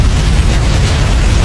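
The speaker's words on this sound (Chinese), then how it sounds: "不成想丧彪却在此时启动炸弹" A bomb detonates in a building during a shootout in an American action series, giving a sustained, loud, rumbling roar of dense low-end noise that fills the whole moment without any break.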